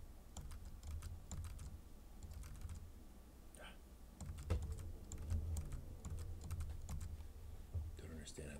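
Rapid keyboard typing clatters close to the microphone in uneven bursts of keystrokes, with a low background hum and faint voices underneath.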